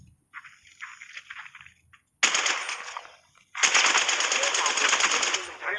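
Automatic gunfire in the video game Apex Legends, a short burst followed by two sustained rapid volleys, loud and close, with a lull between them.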